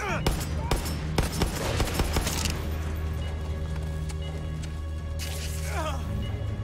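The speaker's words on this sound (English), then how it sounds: "Who's shooting?" Rapid bursts of gunfire in Far Cry 6, sharp cracks clustered in the first few seconds then thinning out over a low engine hum, with a voice speaking under the shots.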